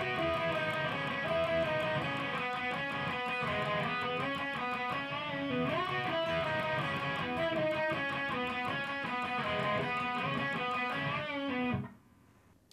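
Electric guitar plays a riff with all down strums, a steady driving chug of ringing chords for about twelve seconds before cutting off abruptly; no talking.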